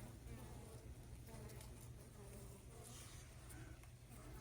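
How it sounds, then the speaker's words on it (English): Honeybees packed into a shipping package, about 20,000 workers with two queens clustering together, give off a steady, dense hum that runs through the whole stretch at a constant level, close by, with faint talk over it. "Here is our packages of bees."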